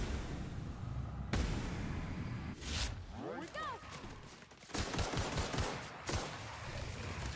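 Gunfire in The Outer Worlds: sharp rapid bursts and single cracks scattered through a chaotic fight, with sweeping laser-like zips mid-way, loud and close, a voice talking in between.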